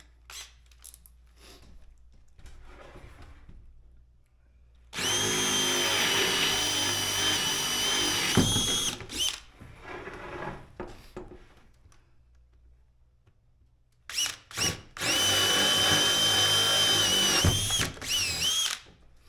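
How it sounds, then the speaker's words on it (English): An electric drill whines loudly in two long bursts while drilling holes in wood, each several seconds, with quiet handling noises and brief ticks between them. "we will drill our holes in the middle"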